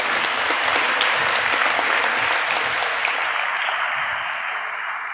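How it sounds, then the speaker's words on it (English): A hall of fame banquet crowd applauds two veteran sportscasters, a dense, loud, even roar of many clapping hands that holds steady and tapers slightly toward the end. "Let's give him a round of applause."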